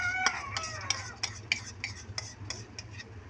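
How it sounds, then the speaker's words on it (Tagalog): A spoon or spatula scrapes and taps repeatedly in a pan while eggs are stirred and scrambled, a quick irregular series of close clinks over a faint low sizzle. "Scrambling po natin isa-isa mga mare."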